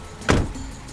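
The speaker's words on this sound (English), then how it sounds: "It's a car." A car makes a short, loud whooshing burst near the middle of a brief moment, then fades into a steady, low background hum.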